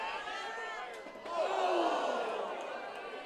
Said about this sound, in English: the crowd told me enough, as one of the loudest ovations that we've heard